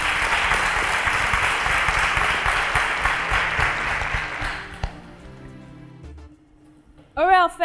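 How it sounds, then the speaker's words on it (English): Steady applause from an audience at an innovation competition fills the first five seconds, then fades away, and a voice speaks briefly at the end. "A round of applause for them, please."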